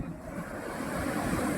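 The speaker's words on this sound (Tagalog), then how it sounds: "lagi ito yung alon" Ocean surf rolls onto the sand at a beach resort in San Felipe, Zambales, a steady continuous wash of breaking waves with some wind rumble, close by and unbroken for the whole stretch.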